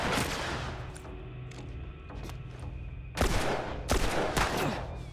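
Gunfire in The Last of Us, several loud bursts of shots in close succession over a busy game backdrop, with two heavier cracking volleys near the end.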